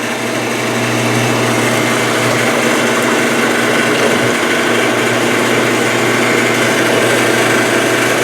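A Maytag Neptune washer pump grinds during the spin cycle, a loud, steady, rough mechanical drone with a constant hum that runs unbroken the whole time, with no talking.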